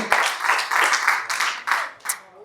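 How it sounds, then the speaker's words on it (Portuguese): A church congregation claps continuously, dense and lively, with a few louder bursts and no talking. "Você pode aplaudir o nome do nosso Senhor Jesus Cristo?"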